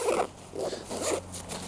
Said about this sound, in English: zip their zippers